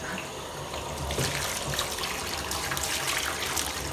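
Water runs steadily from a tap or shower head while a dog is bathed and soaped, a continuous splashing hiss filling the clip with no talk over it.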